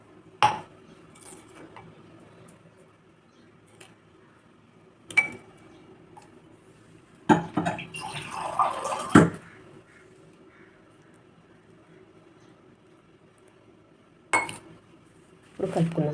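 Ragi flour and salt stirred in a bowl with a spoon, a few sharp metallic clinks of spoon against the bowl separated by quiet stretches and one longer scraping burst.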